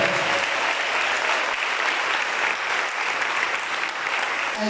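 A Mass congregation at a closed February retreat bursts into sustained, dense applause with scattered cheering, steady and loud throughout with no pauses.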